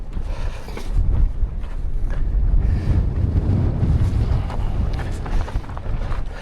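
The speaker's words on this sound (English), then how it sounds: "Blustery, man." Strong gusty wind buffeting the microphone on Striding Edge, the rocky ridge up Helvellyn, a loud rumbling roar that surges and eases without a break and carries no speech.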